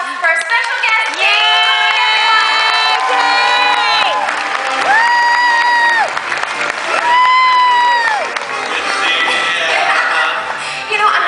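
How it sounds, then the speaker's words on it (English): A convention audience at a Star Wars Weekends Q&A claps and cheers loudly for guest Dave Filoni, with rising whoops and shouts over a dense wash of applause that continues for about eleven seconds. "So give me a round of applause for our special guest, Dave"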